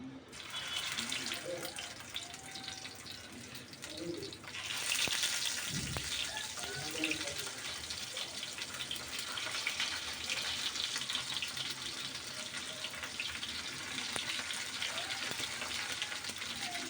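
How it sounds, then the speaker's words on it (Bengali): Poa fish fry in hot oil in a wok, making a loud, steady hiss that surges around the fifth second and keeps on evenly, with faint talk early on. "গরম তেল মাছ দিলে হঠাৎ অনেক তেল প্রথমে ছোটে"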